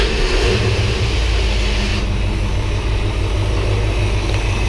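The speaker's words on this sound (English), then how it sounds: "But I guess we can prove to him the car runs." A car engine runs steadily after a Pertronix ignition install on a Ford Falcon, a loud, even drone with a low hum and no talk over it.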